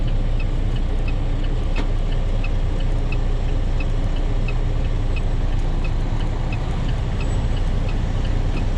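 Diesel truck engine running steadily during a gear change at a driving school, a constant loud low rumble with faint regular ticking throughout and no talk.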